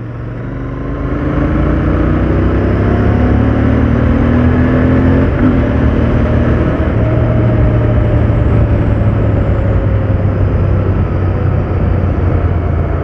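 A Royal Enfield Continental GT650 motorcycle engine pulls hard through the gears on a ride, its loud close drone climbing in pitch again and again as it accelerates, with no talk over it.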